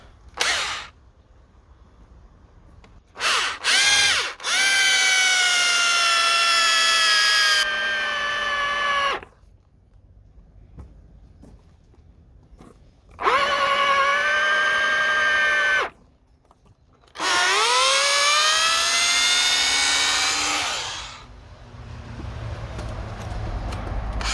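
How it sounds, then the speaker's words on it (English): Close, loud power drill with a wood bit boring into a wooden gate post in three long bursts separated by quiet gaps, the pitch dropping as the bit bites in. "Obviously be careful not to drill through the post and then into the brick wall with your wood bit"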